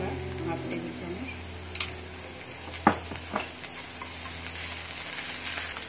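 Ginger-garlic paste frying in hot oil in a pan for butter chicken, a soft continuous sizzle with a few brief stirring clatters, close and fairly quiet with no talk.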